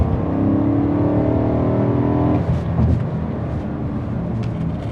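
A 2007 BMW M3 V8 engine idles with a low rumble, then a quick throttle blip briefly raises the revs before it settles back down.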